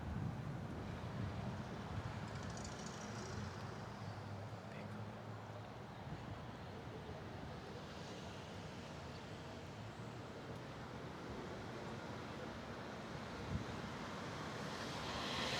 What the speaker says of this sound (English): Indeed, this wind is starting to pick up a little bit.